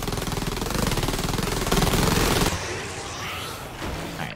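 Rapid automatic gunfire in the video game Silica, a dense, loud burst of shots for about two and a half seconds before it thins out into scattered, fainter firing.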